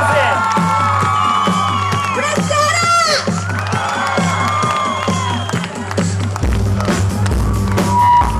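A crowd at a live music show in Călărași cheers, whoops and claps loudly over a thumping beat and music, with a voice on the PA amid the noise.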